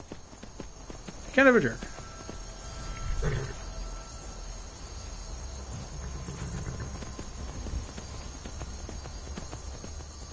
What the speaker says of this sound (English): There's that dude. Riding on his horse.